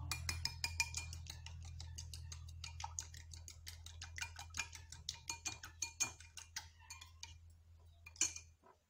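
A milk, sugar and egg mixture is beaten in a bowl, giving a fast, even run of light ticking strokes from the whisk or spoon. The strokes are quiet and close, over a low steady hum.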